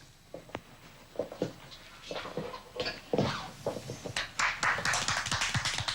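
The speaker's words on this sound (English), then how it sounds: "everybody started clapping." Dinner guests clap, starting with a few scattered hand claps and swelling into steadier, denser applause from a small group at close range.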